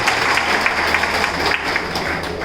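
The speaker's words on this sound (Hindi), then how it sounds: "इसके लिए एक बार जोरदार तालियां होगा।" A crowd applauds at a political party's founding-day rally in Lakhisarai, India, in 2021. Continuous clapping sounds moderately distant and blends into a steady wash, with no one speaking over it.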